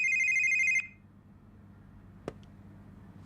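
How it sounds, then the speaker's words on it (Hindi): A telephone rings with a bright electronic trill, then cuts off abruptly, leaving near silence and a single soft click. "गलती से रेनो का फोन काट दिय"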